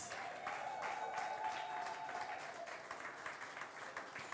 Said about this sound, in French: Est-ce qu'on peut acclamer pour maman Élise?